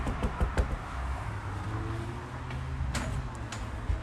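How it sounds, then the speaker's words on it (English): Knocking on a house door on a cold day, a few quick raps near the start and a couple more later, sharp and close against a low outdoor rumble. "Let's knock."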